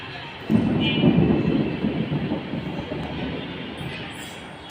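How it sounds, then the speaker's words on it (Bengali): Thunder from a lightning storm, heard from a balcony in Dhaka, breaks in as a deep rolling rumble and then fades into a long, steady, low roar. "এই দেখুন কীভাবে বিদ্যুৎ চমকাইতেছে অনেক মানে জোরে জোরে"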